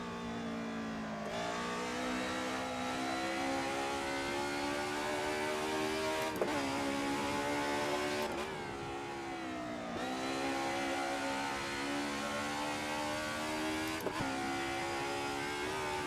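BMW M3 race car engines in a 90's DTM sim race at Bridgehampton drone steadily at high revs, with a few sharp gear-shift dips and overlapping cars, loud and continuous with no voices.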